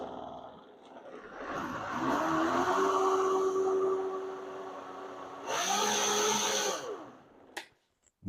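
A kitchen blender whirs through lemon tiramisu cream, a loud steady motor whine that rises in pitch, stops, then runs again in a short second burst, close and alone.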